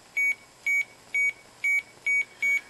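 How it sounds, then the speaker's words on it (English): Six short, high electronic beeps from a microcontroller-driven piezo speaker at a steady pace, each a clean single tone, close and clear over faint background hiss. "So I could generate a beep. So this will be a beep"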